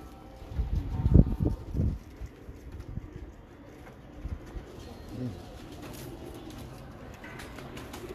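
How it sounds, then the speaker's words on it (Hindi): Soft, low coos from Imam Deen breed pigeons come in a brief cluster near the start, then a few quieter calls follow over a faint, steady background. "इमामदीन कबूतर है माशाल्लाह से, ये मशहूर है, वर्ल्ड फेमस कबूतर है"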